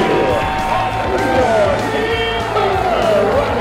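A minor-league baseball crowd at a Rattlers versus Beloit Snappers game roars as the final pitch ends it, a loud, sustained wall of cheering with whoops and shouts throughout.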